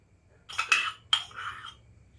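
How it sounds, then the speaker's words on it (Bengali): An egg beaten in a bowl, giving two quick bursts of light clinking and scraping against the bowl's side, close and fairly quiet with no talking. "এই ডিমটাকে আমি ভালো করে ফেটিয়ে নিচ্ছি"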